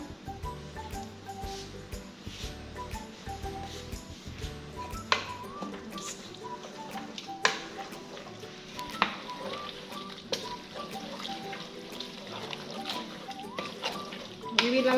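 Biriani stew simmering on the stove with mala added, stirred in a pot with soft sloshing, scraping and occasional clinks against the pan under a quiet sizzle, while someone speaks throughout.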